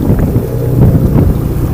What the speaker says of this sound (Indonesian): Saat ini angin bertiup dari arah selatan barat daya